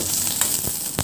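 Garlic sizzles in a hot pan for a chutney, a steady close crackling hiss with a few sharper pops, no voices.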